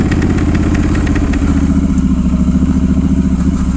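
Triumph Scrambler 1200 XE motorcycle ridden off-road, its engine loud and close with a steady pulsing throb and a slight rise in revs partway through, no talking.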